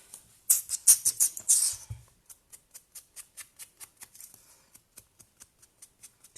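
Scissors trimming scrapbook paper at a craft table: a quick run of louder snips up front, then a long steady series of small, faint, evenly spaced cutting clicks, heard alone.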